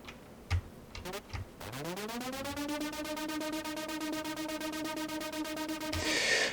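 A stuttering synth patch for a house music drop, made in Ableton with an LFO on the filter cutoff, plays a sustained rising tone chopped into rapid even pulses, loud and alone, ending in a noisy burst.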